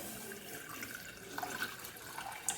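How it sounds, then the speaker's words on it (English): Water poured into a cooking vessel to make sugar syrup for a sweet, a soft steady splashing and trickling at close range with a faint clink near the end. "To this we are going to add water,"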